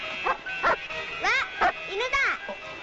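A dog in a Japanese Spiderman episode barks and yips in short bursts, several sharp barks spaced irregularly over a few seconds, with a voice and other speech mixed among them.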